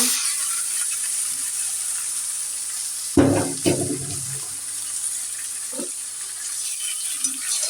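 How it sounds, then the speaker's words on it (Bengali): Hot oil sizzles softly, then the tempering (baghar) hits the pan beside onions already browned, bursting into a loud, sudden crackle that fades over a few seconds, leaving a quieter hiss with occasional utensil clinks. "এখন আমি বাগারটা দিয়ে নিব"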